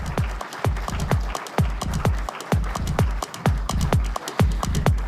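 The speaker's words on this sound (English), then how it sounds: "may I hear a very loud round of applause for him" A very loud round of applause from the audience at an education fair event, with sharp claps bunched into rapid bursts that carry on steadily for several seconds, close and dense.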